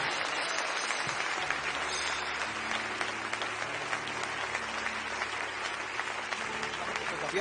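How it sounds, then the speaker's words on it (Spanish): A church congregation applauds steadily and loudly throughout, a continuous dense wash of clapping from a large crowd with a voice speaking over it. "Denle un fuerte aplauso al Señor."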